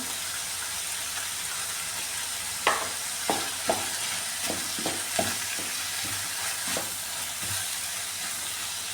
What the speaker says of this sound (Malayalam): ഉള്ളിയൊക്കെ ഒന്ന് വഴഞ്ഞിട്ടുണ്ട്